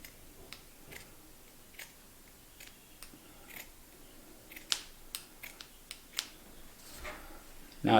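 Scissors cut through a cotton T-shirt, including its stitched seams, with sparse crisp snips and clicks. The blade closes irregularly against a quiet background, getting slightly denser toward the end, and no one speaks.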